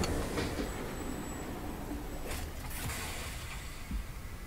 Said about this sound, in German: Oh, unser Zug.